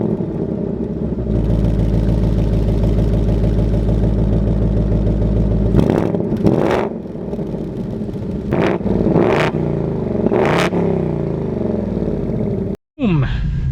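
A 2025 Ford Mustang GT with the 5.0 V8, manual transmission, active exhaust and limited-slip axle accelerates hard and loud, its engine note rising steadily before a few sharp breaks that sound like gear changes, then cutting off abruptly near the end.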